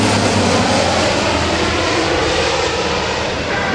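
A C-130J-30 Hercules transport aircraft roars past low and fast over an airfield, a loud, sustained, broadband engine rush with no talking.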